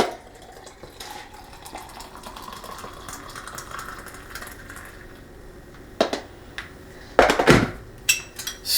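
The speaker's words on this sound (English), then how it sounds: "pour the water." Hot water pours from a glass vessel into a cup of instant coffee in a home kitchen, a steady rising fill that runs for several seconds, followed by a few louder clinks and splashes near the end.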